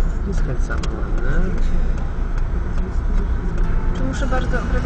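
A car engine humming and revving gently during a driving lesson, heard from inside the cabin with a steady low drone and small rises as gas is applied, while an instructor and learner talk throughout.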